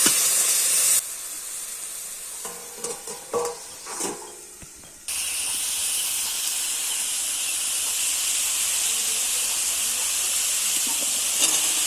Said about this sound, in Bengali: সামান্য জল দিয়ে চাপা দিয়ে আলুটা সেদ্ধ হতে দেব।